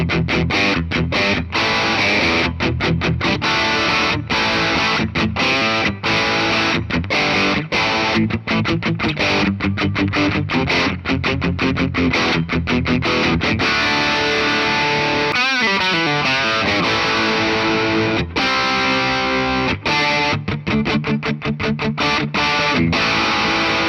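A 1953 Gibson Les Paul Goldtop with a trapeze tailpiece is played through heavy distortion, thick sustained chords and riffs ringing continuously and loud, with a brief slide or pitch sweep midway and no talking.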